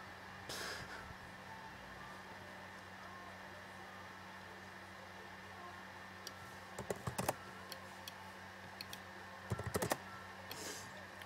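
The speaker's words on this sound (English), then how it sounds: "I'm fast typing." Fast typing on a computer keyboard, quiet at first, then bursts of rapid close key clicks in clustered runs over a low steady hum, with no talking.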